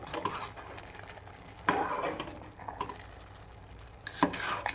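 A spoon stirs dal rice made with Ponni rice in a pot on low heat, giving a few soft scraping strokes and sharp metallic clinks against the pot over a quiet sizzle, close and fairly faint.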